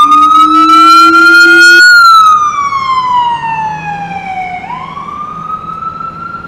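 A loud, close ambulance siren on York Avenue in New York City wails, its pitch holding high then sliding downward before rising again as it passes.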